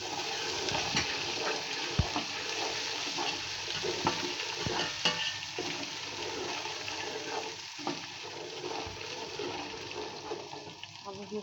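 Garlic, ginger and tamarind seeds fry in hot oil in a pot, giving a steady hissing sizzle with occasional stirring clatter, fairly faint and close.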